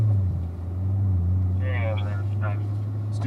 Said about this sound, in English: So squeeze on the throttle, build up a little speed here.